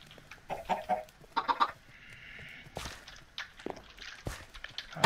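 Chickens cluck in Minecraft in short repeated bursts, mixed with footstep-like taps and other blocky game sounds, fairly close and clear.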